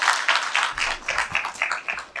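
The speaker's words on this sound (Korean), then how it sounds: "삼척시 시의회 정정순 시의장님께 다시 한번 큰 박수 부탁드리겠습니다" Applause breaks out from the audience for the Samcheok city council chair at the Mr. Gangwon contest ceremony, a brisk, steady clatter of many hands that carries on without pause.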